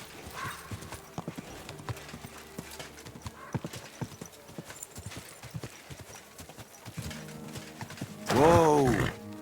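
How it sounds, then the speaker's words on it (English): Horse hooves clip-clopping steadily while being ridden, close and fairly loud, with occasional creaks, ending in a brief loud neigh. "Easy, good horse."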